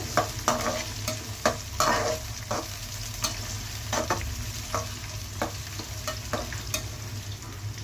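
Thinly sliced onions frying in a pan while being stirred, a steady close sizzle broken by regular scraping strokes and clicks of the spatula against the pan, no voices.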